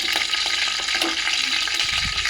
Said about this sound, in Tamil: எண்ணெயில் கொஞ்சம் தண்ணி பட்டிருக்குன்னு நினைக்கிறேன், அதனால் பொரியுது.